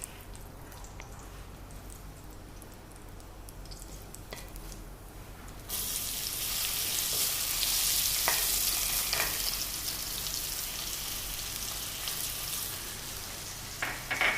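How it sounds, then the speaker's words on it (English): Quiet background at first, then a sudden bright, hissing sizzle of hot oil in a pan starts and keeps crackling steadily, with occasional louder pops. "Let's wait for it to splutter. You can hear it, I guess."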